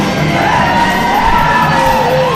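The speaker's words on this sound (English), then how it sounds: "And the crowd unglues here for Mr. Rocky Rage" Wrestling crowd at an ASW Boone County Brawl 2016 show cheering and yelling for a wrestler's entrance, a dense, steady roar of voices with shouts rising out of it, loud and continuous throughout.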